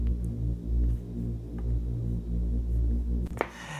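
A Nexus 'Hit This Man 1' saw bass preset played with a low-pass filter cut down, giving a dark, muffled, throbbing bass that pulses steadily with the upper range removed, ending in a brief brighter burst.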